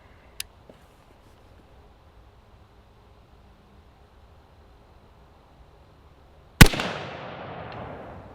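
A single sharp rifle shot fired while zeroing a scope, loud and close, with a brief echoing tail trailing off afterward in otherwise quiet outdoor surroundings.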